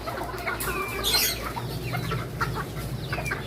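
Bantam chickens clucking in a farm pen, with several close, overlapping clucks and short calls from the hens over a steady low background hum.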